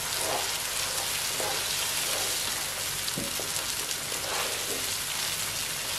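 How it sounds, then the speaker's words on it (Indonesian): Spices are sautéed in a pan while cooking a village-style tempeh in coconut milk, giving a constant close sizzle with a few faint spoon taps. "Nah, kita tumis sampai larut."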